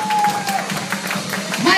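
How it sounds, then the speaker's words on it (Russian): Guests applaud at a wedding celebration in Kalinovo, giving a short burst of brisk, lively clapping with a little cheering mixed in. "Аплодисменты"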